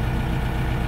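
A tractor engine idles steadily in a snowy yard after a storm in New Brunswick, a loud, even low rumble with no other sounds.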